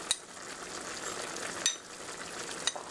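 Pork being stirred in a pan as a cornstarch and cold-water slurry is mixed in, with a continuous soft sizzle and a few sharp utensil taps against the pan, no talking.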